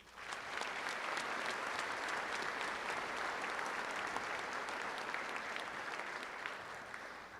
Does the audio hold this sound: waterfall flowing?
no